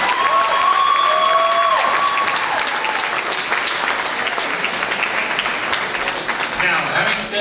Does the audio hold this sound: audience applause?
yes